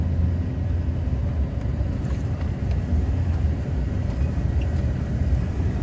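Duramax diesel truck driving over soft ground, a steady loud low engine rumble that holds without a break from start to finish.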